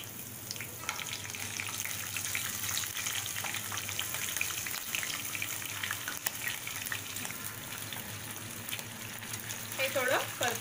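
Clams in their shells sauté in a hot pan for a masala curry, a steady crackling sizzle with light scraping and a few shell clicks, close and continuous.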